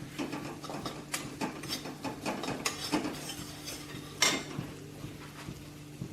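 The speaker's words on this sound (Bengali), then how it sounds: "আমি এতে আদা রসুন কুচিগুলো দিয়ে দেবো এবং দিয়ে আমি 1 মিনিট ফ্রাই করে নেব" Chopped ginger and garlic fry in melted butter over a medium gas flame, stirred with a utensil. A run of close, irregular scrapes and clinks against the pan rides over a faint, steady sizzle.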